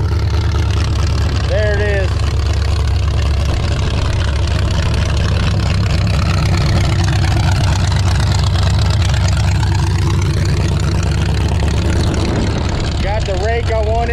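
A 1979 Chrysler 300 idles loudly with a deep, rumbling, lopey tone that continues steadily throughout, heard close by while someone talks over it.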